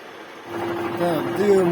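A lathe boring its chuck jaws to a mirror finish, a steady machine hum with a faint tonal whine from the cut that grows louder partway through.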